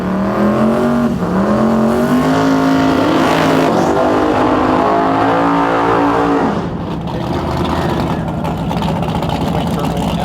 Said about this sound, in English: Twin turbo LS powered Duster.